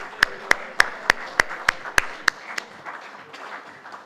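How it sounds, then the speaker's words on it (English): A small group claps in distinct, evenly spaced beats, about nine sharp hand claps over two seconds, then trails off into a soft room murmur, at an inaugural session of an auto retail conclave. "Let's have another round of applause once again."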